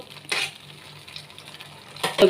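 Koftas dropped into a thickened ash gourd curry and stirred in a pan: two short scraping, splashing stirs close by over a low simmering hiss, no voices.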